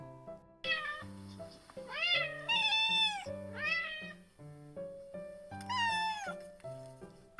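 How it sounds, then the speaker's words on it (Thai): Several drawn-out domestic cat meows, a couple of short calls and then longer rising-falling cries, sound close and clear over a soft background music track. "เสียงแมว"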